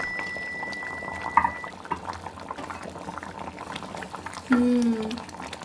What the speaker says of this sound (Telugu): ఉడకనిద్దాం